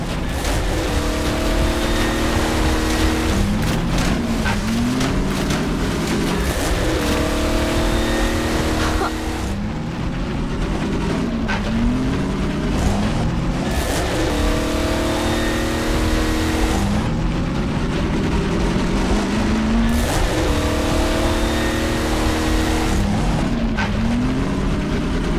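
A vehicle engine races and accelerates in Half-Life 2: Episode Two, loud and close, revving up in repeated surges over a steady roar that lasts throughout.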